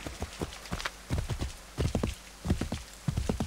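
Horse hooves clip-clop in Assassin's Creed 3, a steady run of clustered hoofbeats close by, moderately loud, with no talk over them.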